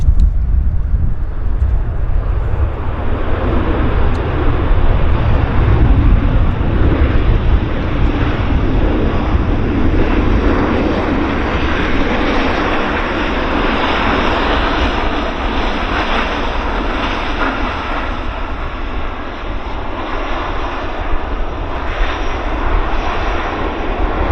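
Airplane landing at Vancouver airport, its engine roar steady and loud throughout, a broad continuous rumble with a faint whine on top and no voices.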